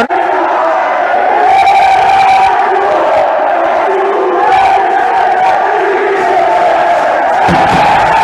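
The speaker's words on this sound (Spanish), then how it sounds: "Ese grito en el que equipo de afición se unen en uno" A futsal team and its fans roar a chant together in unison after a hard-fought match, a loud, sustained crowd shout that swells and dips in waves for the whole stretch.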